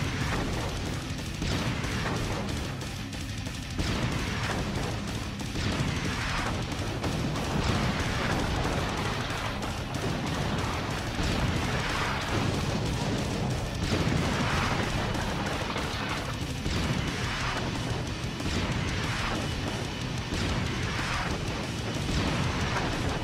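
Steady video game gunfire from the PS2 title Terminator: Dawn of Fate, rapid repeated shots and bursts rattling continuously over a dense, loud background of effects.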